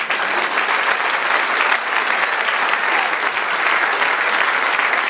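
A church congregation at a Spanish-language service in New York applauds: sustained, dense clapping from many hands, loud and even for the whole stretch with no talk over it.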